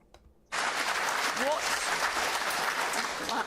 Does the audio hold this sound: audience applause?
yes